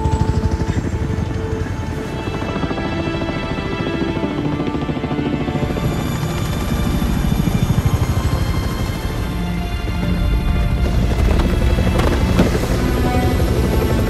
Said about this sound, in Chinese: 不久后直升机终于赶到